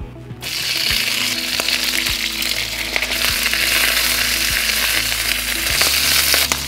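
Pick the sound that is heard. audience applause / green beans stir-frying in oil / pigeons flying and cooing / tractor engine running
green beans stir-frying in oil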